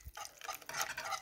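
A homemade hair relaxer mixture is stirred briefly in a container, giving a soft, close scraping and swishing sound.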